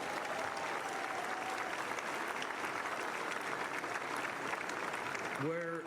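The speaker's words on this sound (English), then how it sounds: "please give them a huge round of applause" Tennis event crowd gives the event staff a huge round of applause: a full, continuous roar of clapping from a large audience at an even level, with a voice briefly starting over it at the very end.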